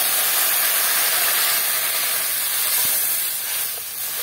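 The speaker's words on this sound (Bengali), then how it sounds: "আমি গরম জল দিলাম," Hot water poured into spice masala frying in a pan for a Bhootnath fish curry, giving a loud, steady broadband sizzle and steamy hiss that holds throughout and eases slightly near the end.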